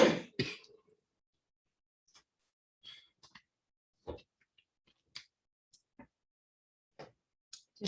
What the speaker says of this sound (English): Just can't seem to clear my throat.